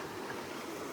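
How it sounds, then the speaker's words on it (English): Creek flowing beside natural hot spring pools, a continuous close rushing and babbling of water with no other sounds over the short moment. "Creek right here."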